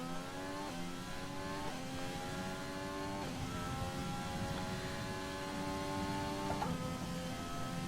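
An F1 race car engine in the F1 2020 game at Bahrain screams through repeated upshifts, each high whine climbing steadily then stepping down, continuous and loud without pause.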